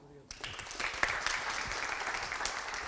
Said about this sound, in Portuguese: Batan palmas, queridos.